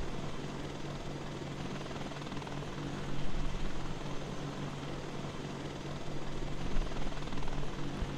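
A Chinook CH-47 twin-rotor helicopter from a modded flight in the video game DayZ, flying over Chernarus, gives a steady, loud rotor and engine drone throughout, swelling slightly partway through.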